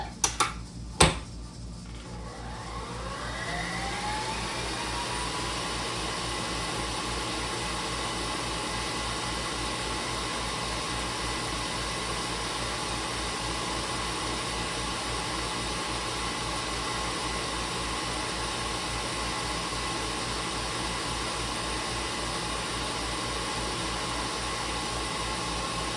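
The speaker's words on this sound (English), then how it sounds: "Blend this one up." An electric mixer blends pumpkin pound cake batter. After a couple of sharp clicks it settles into a steady, even whirring hum that runs unbroken and alone throughout.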